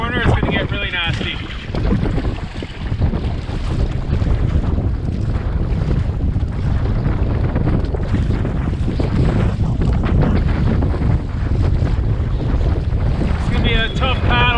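Strong wind buffets the microphone while someone paddles a lake, a steady loud roar with water sloshing beneath, and a voice speaks briefly at the start and end.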